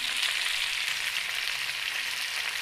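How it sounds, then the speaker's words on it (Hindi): Potatoes frying in a pan give a constant, dense hiss of sizzling oil, close and even, with no voices. "आलू हमारे भुनते हुए तकरीबन 5 मिनट हो गए हैं।"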